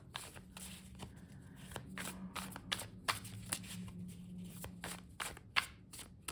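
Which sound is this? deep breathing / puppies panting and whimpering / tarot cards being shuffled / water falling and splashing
tarot cards being shuffled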